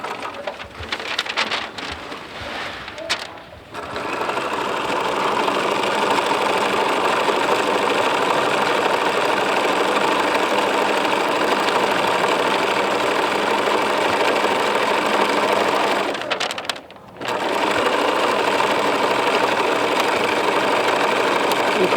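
Sewing machine stitching a Tyvek hospital PPE gown, a steady dense whirring that runs continuously with two brief pauses, loud and close.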